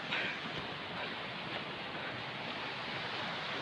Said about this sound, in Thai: ระหว่างเป็นลำธาร น้ำแข็งน้ำไหลจากภูเขาน้ำแข็งลงมา